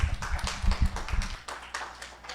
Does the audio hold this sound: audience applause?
yes